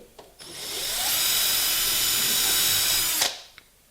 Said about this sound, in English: that tells me where to drill. So this is a 1/16 of an inch drill.